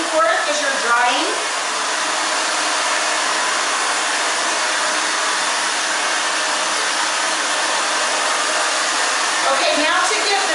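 A hair dryer blows continuously at close range while drying the back of a teen's bob-cut hair, a loud steady rushing whoosh, with brief muffled voices near the start and end.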